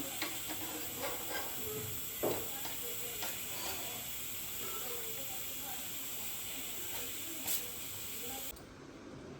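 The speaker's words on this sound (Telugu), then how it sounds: "శనగలు ఉడుకుతుందండి." Chickpeas boiling in a pot on the stove: a constant soft hiss of steam and bubbling that runs throughout, with faint kitchen clatter and a brief thump or two, and quiet background voices.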